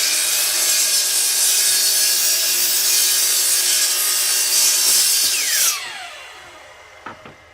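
Oak boards hand-sawn to rough length, a steady loud back-and-forth rasp of the saw through the wood for about six seconds, then stopping, followed by a couple of faint knocks.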